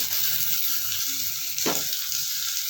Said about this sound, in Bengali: এবার আমি চিংড়া মাছ সব দিয়ে দেবো।